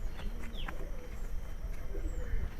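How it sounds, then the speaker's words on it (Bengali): Pigeons in a loft give soft, low cooing calls, fairly faint against a busy background hum, with a few brief chirps scattered across. "এই যে দেখেন খুব সুন্দর কবুতর।"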